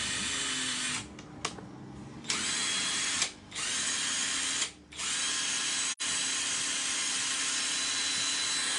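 A power drill runs steadily and loudly, cutting out briefly a few times with short gaps before spinning back up, with no talking over it.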